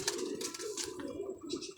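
A highflyer pigeon coos in low, soft murmurs while held in a keeper's hands, with a steady close hum of handling and ambient noise around it.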